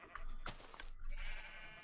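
Sheep bleating in a video game, a couple of short wavering bleats that stand out clearly over a low ambient background.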